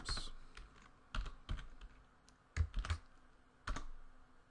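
Typing Java code on a computer keyboard, a quiet close-up run of irregular key clicks and clusters with short pauses between bursts, no talking.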